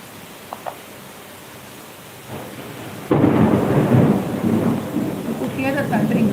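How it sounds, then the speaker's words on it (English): Thunder rumbles in: faint ticks at first, then a sudden loud crack and a long, heavy rolling roar with rain-like hiss that stays strong to the end. "Hear the thundering, right?"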